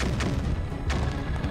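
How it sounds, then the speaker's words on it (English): An enemy fires shots in the Parasite Eve 2 video game, two dull booming reports about seven-tenths of a second apart over a steady low rumbling background. "Now he's firing again."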